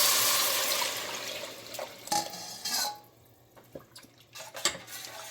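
Gram flour batter for Gujarati kadhi goes into a hot tempering, giving a loud watery sizzling wash at first. It settles into scattered clinks and stirring knocks against the pot.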